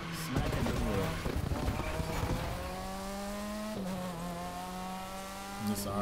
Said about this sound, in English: This RX-7, this rotary sounds beautiful.